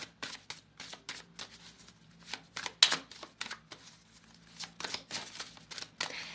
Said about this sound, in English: As I started shuffling